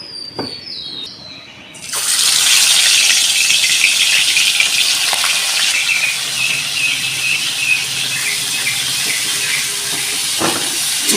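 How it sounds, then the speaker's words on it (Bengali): Fish rubbed with salt and turmeric drops into hot oil in a pan, setting off a sudden loud, steady sizzle that hisses on without a break, with a few faint clinks from the pan. "মাছটা আমি লাল লাল করে ভেজে নেব"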